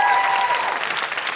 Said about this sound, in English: Big round of applause for all the techs of Edinburgh.